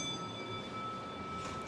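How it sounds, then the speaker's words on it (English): A Schumacher traction elevator's alarm bell rings in a steady, continuous electric tone with a metallic shimmer, held at an even level throughout the short stretch. "Oh, here's the alarm bell."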